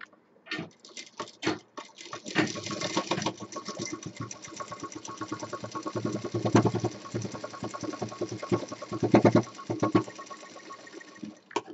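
A sewing machine stitches a fabric cushion in rapid bursts of close, mechanical rattling, starting and stopping several times, then running in longer steady runs.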